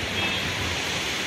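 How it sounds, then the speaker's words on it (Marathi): Sea water and waves washing in at Tarkarli beach, a steady broad rushing wash of surf, loud and continuous with no distinct breaks. "पाण्याचा आवाज आहे."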